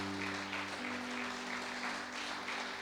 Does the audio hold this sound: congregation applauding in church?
yes